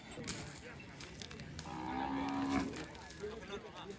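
Cattle moo at a livestock market, one drawn-out low moo standing out against faint background crowd noise and scattered distant sounds.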